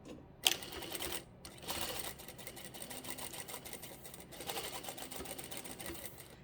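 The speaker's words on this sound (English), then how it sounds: "we're just going to stitch the short ends together, 1/4 inch seam allowance, and we'll back stitch at the beginning and the end." A sewing machine stitches the short fabric ends of a scrunchie together with a quarter-inch seam and backstitching, running in a rapid, fairly quiet chatter with brief pauses between stitching runs.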